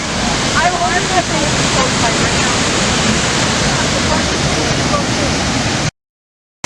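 Minnehaha Falls on Minnehaha Creek in Minneapolis roars as a loud, dense, constant rush of falling water heard up close, cutting off abruptly near the end.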